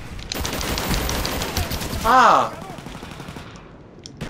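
Rapid gunfire in Call of Duty: Black Ops, dense bursts of shots crackling through the first seconds, mixed with a sharp shouted exclamation from a player voice near the middle before the firing fades.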